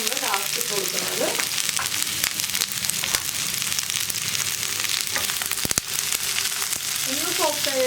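Mixed vegetables including capsicum sizzle and crackle in a hot pan while being stirred, with scraping strokes and bursts of spatter over a continuous close frying hiss.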